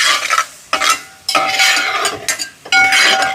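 Dates being stirred in ghee in a traditional uruli pot with a ladle: four scraping, sizzling strokes, each a loud burst of metal-on-pot rasping separated by short pauses, close up with no talk.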